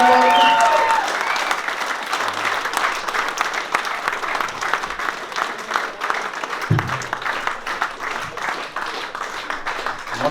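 Sustained audience applause fills a crowded first-anniversary celebration of a charity association in Tash-Kömür, loud and dense with many hands clapping, while a voice briefly speaks over the start.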